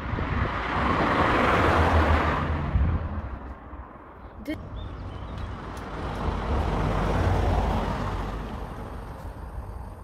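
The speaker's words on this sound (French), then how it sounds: "Il y a trop de voitures, ça me saoule." Cars pass one after another on a busy road, with two loud close swells of traffic roar separated by a brief quieter gap and a sharp click.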